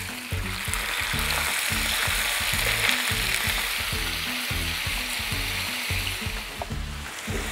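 Beef fries in hot oil in a pan, a loud, dense sizzle with crackling bursts over a repeated low rhythmic scraping or stirring, close up and steady, without speech.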